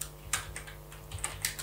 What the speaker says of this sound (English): Press T on your keyboard to add text